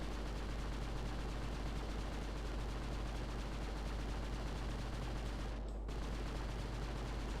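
Dense gunfire from the Project Eden video game, sounding as a continuous rattle of rapid shots, with a brief dip near the end and no talking.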